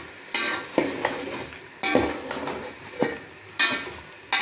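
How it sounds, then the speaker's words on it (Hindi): Chicken with ginger garlic paste frying in a karahi, loud sizzling broken by repeated scraping stirs of a spoon against the metal pan, close up with no talk. "अब डालेंगे जी इसके अंदर 2 चम्मच अदरक लहसुन के पेस्ट। 2 से 3 मिनट के लिए मैं इसे भूनूंगी।"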